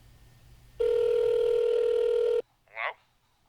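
One long, steady telephone ring tone over the line, about a second and a half, followed by a brief voice-like sound.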